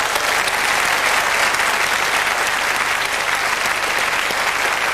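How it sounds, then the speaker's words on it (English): A 1995 game-show studio audience applauds a contestant, Shirley, with steady, full-bodied clapping that fills the room evenly and continues unbroken, no talk over it. "So a round of applause for Shirley, please."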